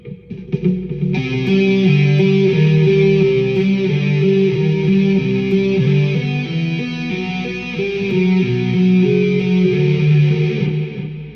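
A heavily distorted electric guitar plays a slow, sustained death metal riff from 1990, each note ringing into the next with a thick, saturated tone and no voices.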